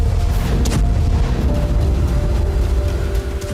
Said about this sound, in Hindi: रूस ने एक बार फिर वैक्यूम बम का धमाका किया।